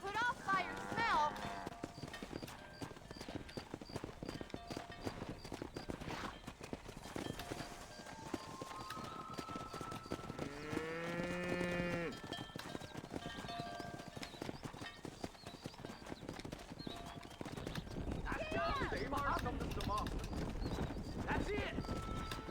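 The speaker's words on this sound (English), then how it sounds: "Herd the cows down the road." Horses' hooves clip-clop steadily as a herd of cattle is driven down a road in the Red Dead Redemption video game, with occasional whinnies and voices talking over the movement throughout.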